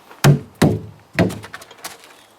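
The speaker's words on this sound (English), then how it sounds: "I'm going to throw another barrel under his belly." An empty barrel is thrown under a horse's belly, landing with three hollow, woody thunks in quick succession, followed by lighter rattling knocks as it settles.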